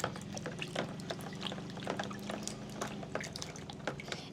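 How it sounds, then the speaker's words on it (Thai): Tap water runs steadily while eggs are washed in a small dorm kitchen, a continuous close pour with light splashing and knocks over a faint hum. "ไข่ต้องล้าง ล้างก่อน"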